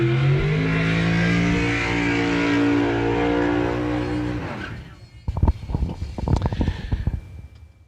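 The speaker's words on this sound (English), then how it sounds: "here comes your final, all dragster final on the box side" Dragster engines at a drag race final, a loud steady engine drone for several seconds that cuts off into a series of sharp, uneven revving bursts and pops.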